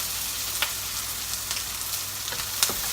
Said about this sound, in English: So we have the garlic going in now.